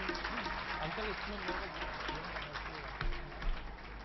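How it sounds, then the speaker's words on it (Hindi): An audience at a Hindi-language village gathering claps to welcome a guest, continuous close crowd applause with a speaking voice running underneath and a couple of louder bumps near the end. "तालियों से उनका स्वागत होना चाहिए।"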